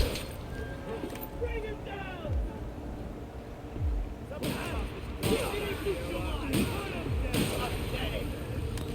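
Enemies shooting in The Outer Worlds, several sharp shots and impacts at irregular intervals, growing more frequent in the second half, heard beneath ongoing speech and game sounds.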